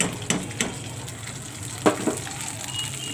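Wheat-flour snacks fry in oil in a pan, a soft bubbling sizzle with a few clinks and scrapes of a utensil against the pan.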